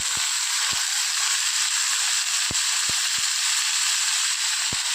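Chopped beans and green chilli sauté in a hot pan, producing a continuous close sizzle with scattered sharp pops and crackles.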